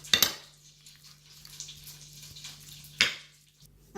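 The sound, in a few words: mixing spiced chicken in a bowl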